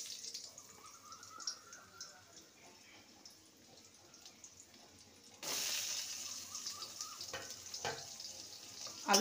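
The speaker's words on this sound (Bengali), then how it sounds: "আলুটাকে ভেজে নেব।" Cut potato pieces fry in a pan over a tempering of black cumin and a dried chili, a faint sizzle that turns sharply louder and denser partway through as the potatoes go in.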